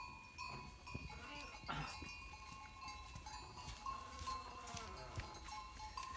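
Goats bleating at a rural farm with livestock around, several bleats scattered through the clip alongside bells and other background noise, fairly far off, with a voice briefly heard.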